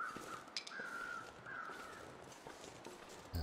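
Crows caw in repeated harsh calls in The Long Dark, a few rasping cries spaced across a quiet outdoor ambience, moderately distant with faint crunching footsteps beneath.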